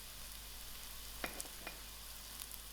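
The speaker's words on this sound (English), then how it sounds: "So to the onions, I'm going to put in my crushed garlic" Crushed garlic going into a pan of softened, golden onions brings a steady soft sizzle, with a few brief stirring clicks and scrapes near the middle, fairly quiet and without voices.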